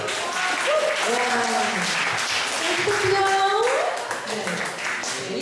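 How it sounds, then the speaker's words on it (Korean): Audience applause at a church celebration concert goes on steadily for several seconds, with voices talking and calling out over the clapping. "장바라 선생님 박수."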